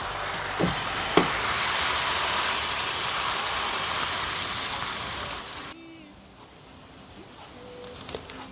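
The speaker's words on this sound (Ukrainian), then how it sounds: "Так, млинці швиденько смажаться." Thin crepe-style pancakes sizzling as they fry in an oiled pan, a loud steady hiss that cuts off abruptly partway through, leaving a quiet room with a few faint clinks.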